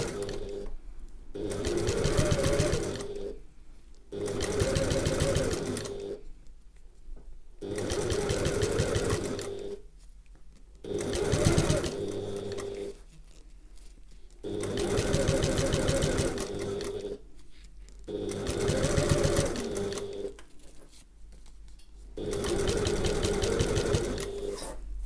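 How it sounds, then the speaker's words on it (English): Sewing machine stitching a handbag, running in several bursts of steady motor hum and rapid needle clatter separated by short pauses, close and clear with no talk. "I'm just going to do a few stitches overlapping when I get back round."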